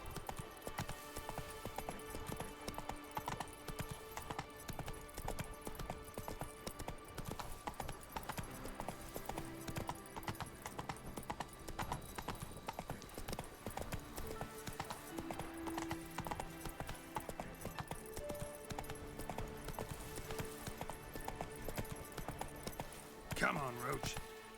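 Roach the horse gallops in The Witcher 3 video game, a steady clip-clop of hooves running throughout amid game music and ambience, with a voice talking over it.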